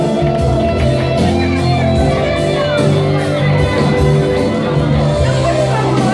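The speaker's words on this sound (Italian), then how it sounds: "facciamo un applauso" Live concert crowd at a show, with loud sustained applause, shouts and whoops filling the whole stretch over continuing music.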